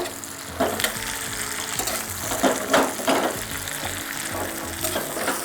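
Tomatoes and crushed garlic sautéing in a pan, a steady close sizzle with repeated scraping stirs and occasional louder crackles.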